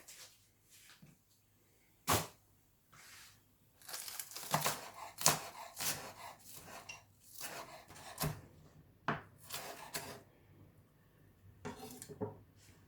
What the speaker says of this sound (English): So I'm gonna start with the spring onion. Just cut the top off.